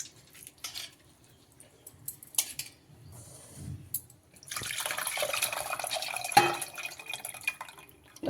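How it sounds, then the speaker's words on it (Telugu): Water poured into a pot of black pepper rasam: quiet drips and small splashes at first, then a steadier, louder pouring flow in the second half, close by and without talk. "ఇప్పుడు ఈ వాటర్ కూడా దాంట్లో పోసేసుకుందాం"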